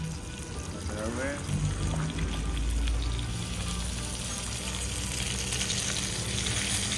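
Fish sizzles steadily in a frying pan and is flipped partway through, the constant crackle of hot oil continuing throughout.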